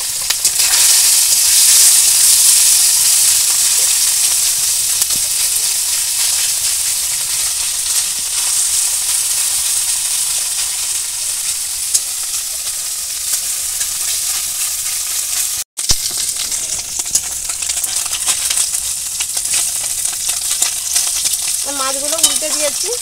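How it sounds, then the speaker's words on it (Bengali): Small fish frying in a well-heated wok, producing a loud, dense, continuous sizzle that eases slightly partway through, with a brief sharp break and some clinking near the end. "ছোট মাছ ভাজবো, একটু ভালো করে কড়াইটাকে আগে গরম করে নিতে হবে"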